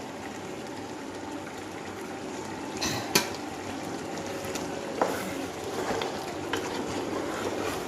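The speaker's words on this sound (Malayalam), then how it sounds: "ഒരു സ്പൂണ് നെയ്യ് ഞാൻ അങ്ങോട്ട് ഇട്ട് കൊടുത്തിട്ടുണ്ട്" Chicken biryani masala frying in ghee with coconut oil and cooked onion, a soft continuous sizzle under occasional clinks and scrapes of a spoon against the pot, fairly quiet and with no voices.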